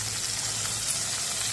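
Crushed raw onions sizzle in hot oil while tempering a chutney: a steady, close crackling fry with a low background hum and no talking.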